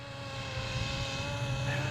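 A FlyWing BO-105 RC helicopter hovers nearby with a steady whirring rotor and motor drone, a constant tonal hum that holds even throughout the short clip without talk.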